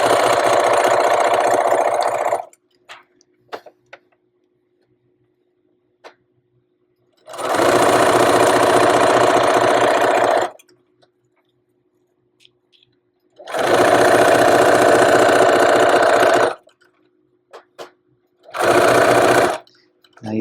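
Sewing machine stitching an invisible zipper into fabric, running in three loud, steady bursts of rapid mechanical whirring separated by quiet pauses with faint handling clicks.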